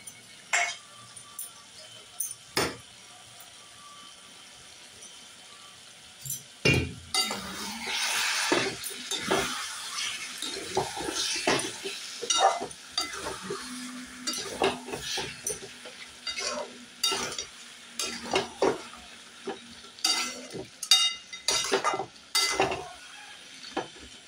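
Chicken curry with yogurt being stirred and fried in a pan, heard as a spoon clinking and scraping against the metal pan in irregular bursts over a faint sizzle, close and fairly quiet.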